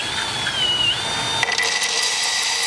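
A carbide chain descaler spins at maximum speed inside an epoxy-lined sewer pipe, giving a continuous close-up whirring grind with a few sharp rattling knocks and scrapes partway through.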